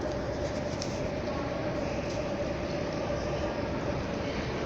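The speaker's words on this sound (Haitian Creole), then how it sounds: "Ça c'est métro" A Santiago metro train rumbles steadily throughout, a constant dense roar with a faint sustained whine running under it and no voices.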